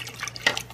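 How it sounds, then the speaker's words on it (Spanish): Water splashes and drips into pupusa dough during hand mixing, a faint, brief patter of small liquid sounds with one slightly louder splash midway. "Vamos a echar un poquito más de agua."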